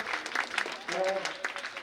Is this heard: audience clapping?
yes